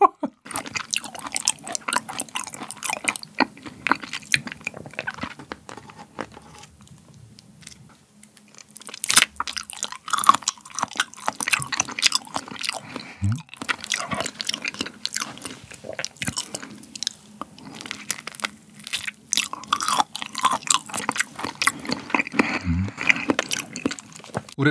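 Raw beef yukhoe dipped in chojang sauce is chewed close to the microphone in a Korean mukbang. Wet, sticky mastication and soft smacking run almost continuously, with a brief quieter pause partway through.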